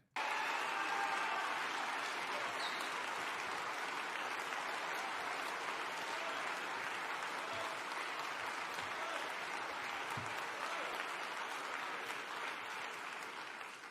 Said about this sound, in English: Gonna stand here for claps, okay.